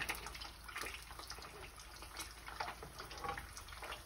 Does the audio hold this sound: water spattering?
yes